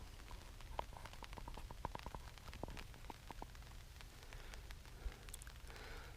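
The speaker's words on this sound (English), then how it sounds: "Slight drizzles came about just in the past 10 minutes" Light drizzle falls at a wild camping spot on the Isle of Bute in Scotland, a faint soft hiss dotted with scattered ticking drops at irregular intervals, quiet and with no voices.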